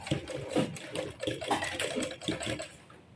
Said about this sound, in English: Now sew it.